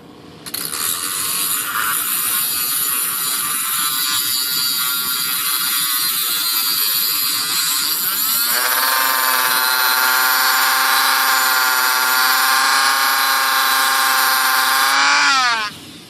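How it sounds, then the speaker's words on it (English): A grinder smooths a rough edge on a part for a 2.6 m composite ASH26 model sailplane, giving a loud, continuous whine that drops in pitch midway and cuts off near the end. "let's just take it to the grinder real quick and just get it straightened out"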